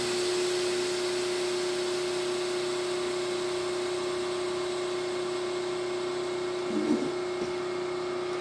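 A Vac Master vacuum sealer runs with a steady mechanical drone and whine while sealing jars of dehydrated Meyer lemons, then gives a short clunk near the end.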